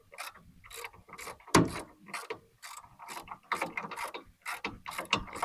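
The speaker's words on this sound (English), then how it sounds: "when you tighten this bolt down" Ratcheting clicks as a bolt is tightened on an e-bike rack, quick bursts of pawl clicks repeating in a steady rhythm, close and fairly quiet, with no talking.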